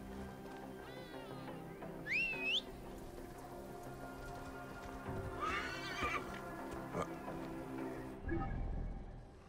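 A horse in the video game Assassin's Creed Origins whinnies shrilly twice, once early and once midway, over soft hoofbeats and a low steady background hum; no one speaks.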